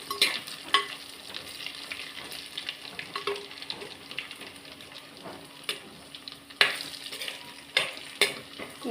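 Chicken 65 pieces fry in oil with a soft ongoing sizzle, punctuated by intermittent clinks and scrapes of a spoon stirring the pan, close and fairly quiet, no speech.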